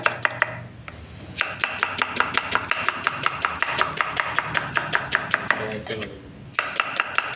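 About half a kilo of onions being finely chopped with a knife on a board, a fast steady run of sharp close taps with brief pauses, fairly loud and with no speech.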